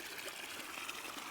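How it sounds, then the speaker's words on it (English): Water trickling steadily into a watering can in the cozy video game WanderStop, a soft continuous stream of pouring liquid with no talk over it. "Fill the watering can with water, then pour it onto your new egg."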